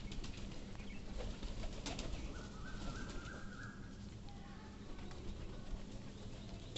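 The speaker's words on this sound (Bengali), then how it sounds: "আর কবুতরটা খুবই অসুস্থ" A sick pigeon gives a faint, low coo against a steady background hiss, with a soft bird call partway through.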